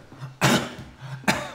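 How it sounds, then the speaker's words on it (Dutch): A person coughs forcefully twice, two sharp close bursts about a second apart with a brief throat sound between them. "Probeer eens wat krachtiger te hoesten."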